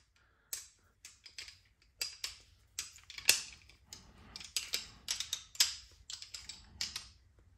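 A 5/8 fitting with an O-ring being screwed onto a pressure washer, a close series of sharp clicking and ratcheting taps in quick irregular bursts, with no talk.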